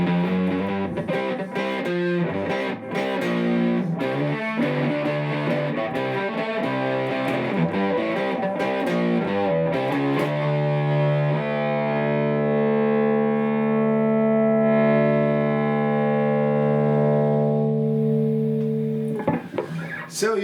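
A Telecaster Custom II on its humbucker pickups plays crunchy, distorted chords through a tube amp on a hot gain setting, strummed rhythmically at first, then one loud chord ringing out and sustaining.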